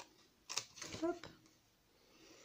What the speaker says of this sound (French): Je vais venir prendre mon ciseau et je vais venir en fait découper tout autour.